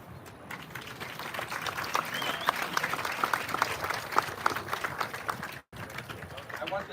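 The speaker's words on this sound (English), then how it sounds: "Can we get an applause for that?" Audience clapping at a Vietnam Veterans Day ceremony, a sustained, moderately distant patter of many hands with sharper individual claps on top and faint crowd murmur, cut by a brief dropout near the end.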